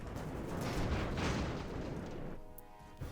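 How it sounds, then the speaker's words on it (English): Big cannons firing in Airships: Conquer the Skies, a faint, distant, rumbling barrage that swells and then thins out, ending in a single soft thud. "Oh, there's some big cannons firing actually."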